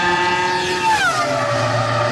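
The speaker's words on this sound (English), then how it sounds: "The cars have 850 horsepower. They drive over 200 miles an hour." Formula One race cars with 850-horsepower engines scream past at over 200 mph, a loud, high-pitched engine whine that sweeps downward in pitch as a car passes close by, with a steady roar underneath.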